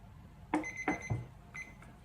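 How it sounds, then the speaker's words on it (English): Small kitchen-style timers going off during a stamp-making craft session, giving a few short faint beeps and clicks in quick succession, then a second brief beep, quiet and close. "There we are, that's the first timer, and my second timer."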